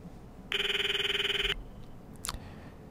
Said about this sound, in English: called Miyuri's phone from my address book